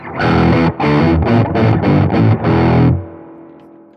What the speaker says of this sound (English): Sometimes I will add the distortion.